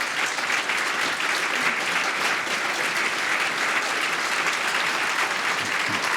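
Audience at a book launch for The Kenneth Williams Companion applauds the book's author, a steady, dense round of clapping that fills the room throughout without pause.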